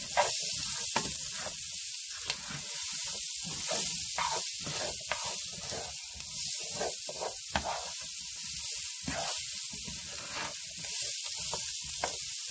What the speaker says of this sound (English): So my onions are going to go in here too.